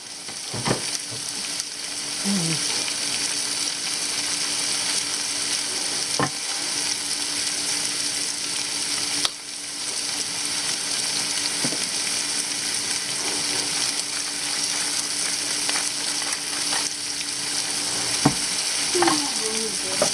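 Vegetables sautéing in a hot pan, a steady loud sizzle running throughout, with occasional scrapes and stirs of a utensil against the pan.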